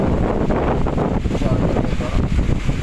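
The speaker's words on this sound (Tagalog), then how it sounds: "ito na po guys yung lakas ng hangin na bumubugso guys" Strong, gusting typhoon wind roars across the microphone in continuous heavy buffeting, with a brief spoken word near the start.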